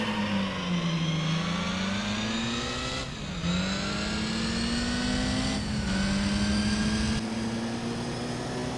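A race car engine in Gran Turismo 3 climbs steadily in pitch through several gears, each shift marked by a brief dip before the whining revs rise again, loud and continuous with no talk.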